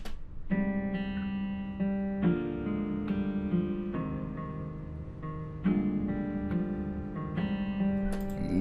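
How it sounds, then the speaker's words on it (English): Notes on a virtual guitar plugin, open string first, struck one after another in a slow, even rhythm, each ringing out with a bright plucked attack; close and clear with no talking. "if you play the open string first, it will sound like this"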